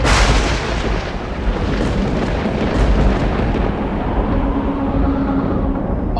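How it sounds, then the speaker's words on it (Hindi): Thunder rolls as a continuous, dense, loud rumble that stays heavy and unbroken throughout, with no voices. "बादल गरज रहे हैं।"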